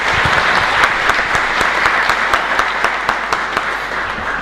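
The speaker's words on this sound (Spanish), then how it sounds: "Un fuerte aplauso, por favor, a esa familia." Steady applause from a church congregation at a Mass in a chapel in Luque, a dense patter of many hands clapping, fairly near, running unbroken throughout.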